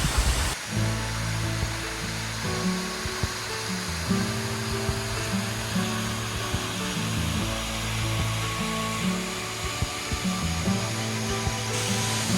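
Waterfall at a swimming gorge on the Gibb River Road in the West Kimberley, a steady broadband rushing roar that holds constant throughout with no voices.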